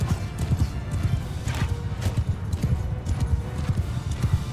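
Horse hooves clip-clop in a fast, steady gallop in Mount & Blade II: Bannerlord, with a neigh rising above the rhythmic beats, loud and close, and no talk over it.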